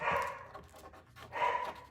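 Indoor dogs reacting to a garage door going up give two rough barks separated by a pause, with breathy panting between them, fairly close.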